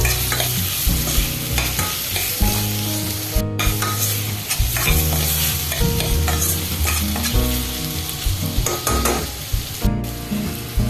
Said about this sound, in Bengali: এবার এখানে টমেটো ছেড়ে দিচ্ছি। এবার এটাকে একটু ফ্রাই করবো।